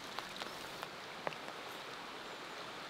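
Rain falling in a wooded valley by an old mill, a soft steady patter with a few sharper drops striking nearby surfaces, faint and continuous with no speech.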